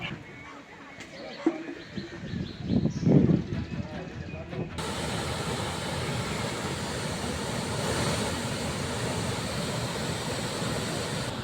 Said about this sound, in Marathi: नर मादी धबधबा हा ओसांडून वाहू लागलेला आहे